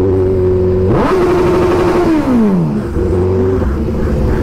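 A 2023 Suzuki Hayabusa motorcycle engine revs up sharply, holds a high whine, then winds down and revs again, loud and close.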